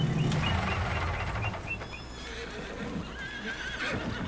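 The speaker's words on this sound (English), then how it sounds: "now we got some more horses" Horses whinny and neigh in Farming Simulator 25 on a ranch in the Palatinate Forest, with hooves clip-clopping steadily throughout and faint game ambience beneath.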